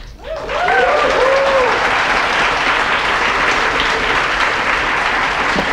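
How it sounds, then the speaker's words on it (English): An audience at a Green New Deal town hall in New York City applauds, loud sustained clapping that rises quickly and holds steady, with a brief voice at the start. "can we have another round of applause?"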